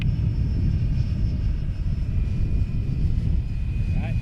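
A FlyFans J-20B model jet on approach to land gives off a steady, loud whooshing engine roar that holds constant throughout, close to the microphone with a faint high whine riding above it.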